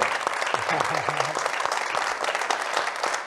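Steady clapping from a seated audience at a lecture-style conversation event, dense and even, with a voice briefly audible under the applause.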